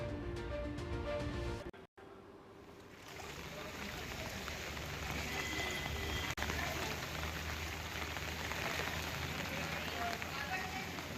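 Heavy rain pours down as the Ambika and Kaveri rivers rise near Bilimora in Navsari, a dense, steady hiss of falling water with a voice speaking over it.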